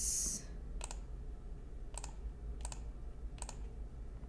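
Computer mouse clicks on a desk, four single, crisp clicks spaced about a second apart, close and fairly quiet over a low steady hum, no speech.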